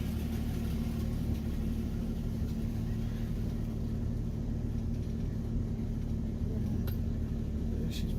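A carbureted Ford Mustang with non-power steering backs out of a garage, its engine a steady, close, low idling rumble that holds even throughout with only faint clicks near the end.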